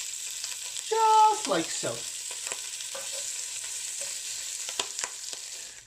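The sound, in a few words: salmon skin crisping in a frying pan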